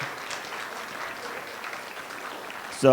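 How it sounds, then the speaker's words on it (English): Guests at a wedding give the hosts a round of applause, a soft steady patter of many hands from a distance, ending in a short louder sound. "I think they deserve the round of applause"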